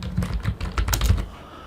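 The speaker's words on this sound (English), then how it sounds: "we're just going to type it" Quick, light typing on a computer keyboard, a brief burst of close, soft key clicks in an uneven rhythm that trails off after about a second.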